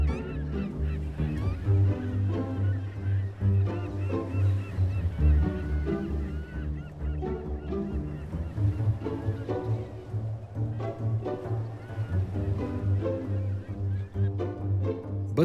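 A large breeding colony of pelicans at inland lakes calls continuously, a dense chorus of low honking and grunting voices overlapping throughout.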